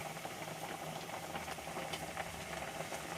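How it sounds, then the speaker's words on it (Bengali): Fish curry of tilapia in oil and chili bubbling steadily in a pot, a soft, continuous low simmer with faint irregular pops and no voices. "তরকারিটা ভালোভাবে ফুটে গেছে"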